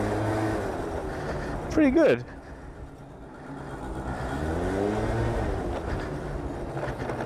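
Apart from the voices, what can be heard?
Yamaha BWS 50 50cc scooter engine revving and rattling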